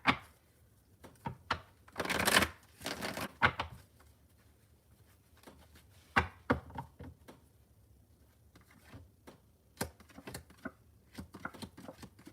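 Tarot cards being shuffled during a reading: a run of crisp papery riffles and flicks, loudest in a dense burst early on, then scattered softer taps and snaps, close and alone without talk.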